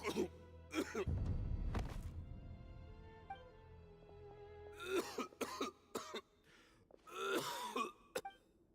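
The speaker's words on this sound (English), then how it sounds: "Why is he coughing so much?" Several harsh coughs in bursts, one heavy fit early on and more scattered coughing later, with a low rumble and faint voices between them.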